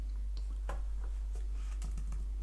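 Quick keystrokes on a computer keyboard as a terminal command is typed while setting up a Raspberry Pi NAS, a handful of close clicks over a steady low hum.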